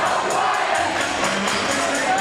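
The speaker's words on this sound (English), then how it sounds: "Their cheering section getting involved as well." Crowd cheering and shouting fills a high school gym during a 2015 Western Mass boys' basketball game, a steady loud roar with whoops rising throughout.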